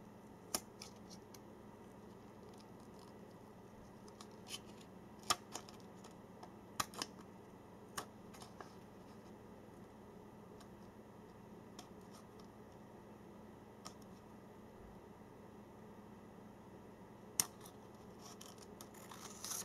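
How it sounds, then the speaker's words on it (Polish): Scissors cut a plastic SIM card, giving a few sharp, faint snips scattered over a steady low background hum, with long quiet stretches between the cuts. "możemy sobie porządnie te nożyczki przyłożyć i wykonać jedno cięcie"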